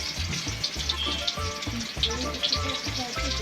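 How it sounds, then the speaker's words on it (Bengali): Chopped onions frying in oil at an outdoor New Year's Day picnic cookout: a steady, close sizzle with soft crackles and occasional clinks of a utensil stirring the pan. "প্রথমে পেঁয়াজ দিব, পেঁয়াজটাকে ভেজে নেব।"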